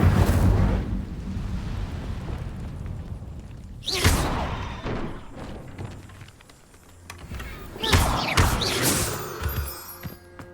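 In the video game Hogwarts Legacy, the Incendio fire spell goes off in bursts, with a heavy whooshing blast near the start and further crackling, rumbling bursts around the middle and end amid game ambience.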